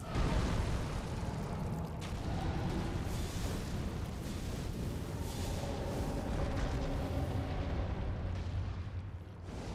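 Elden Ring's Fire Serpent fire spell is cast over and over, producing a dense, roaring wall of fiery blasts and rumbling booms that barely lets up, loud and close throughout.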